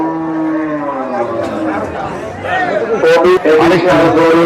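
A cow lows at a crowded cattle market in Safa Bazar, long, drawn-out moos up close over a constant hubbub of chatter and bargaining voices.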